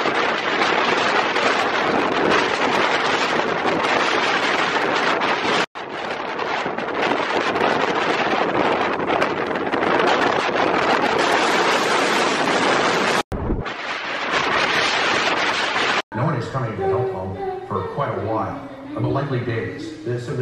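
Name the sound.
strong wind gusts during Hurricane Ian landfall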